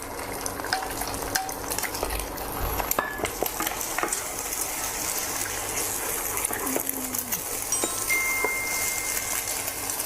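An egg frying in vegetable oil in a pan makes a steady, dense crackling sizzle close up for about ten seconds, with occasional utensil taps and a faint voice underneath.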